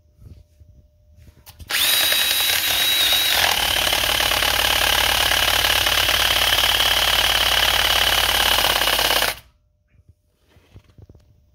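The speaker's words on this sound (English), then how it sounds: "Easiest way to do that is just a drill mounted wire brush." A power drill spins up loudly and whirs steadily for several seconds, a high grinding buzz as a wire brush scrubs a car's front wheel bearing hub housing, then cuts off abruptly.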